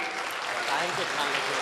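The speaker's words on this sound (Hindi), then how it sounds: "ज़ोरदार तालियों से इस्तकबाल करें" Dense, steady clapping from a seated crowd at a Lucknow mushaira rises to welcome the students, sustained and fairly close throughout.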